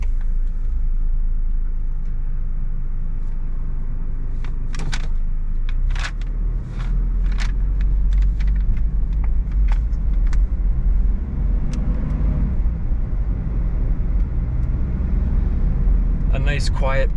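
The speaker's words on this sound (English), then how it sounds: "A nice, quiet, powerful ride. That supercharger gives it some nice added torque." A supercharged Toyota Estima Aeras van cruising around the block, heard from inside as a steady low engine and road rumble with faint clicks and rattles, while someone talks over it.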